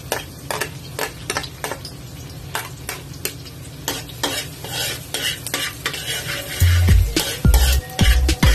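Garlic sautéing in a pan for bopis, a constant sizzle broken by repeated utensil scrapes and clinks of stirring, growing louder and more clattery toward the end.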